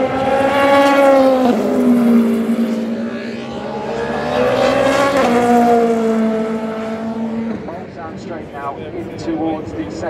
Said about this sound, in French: 5e c'est la Cadillac là qui vient de passer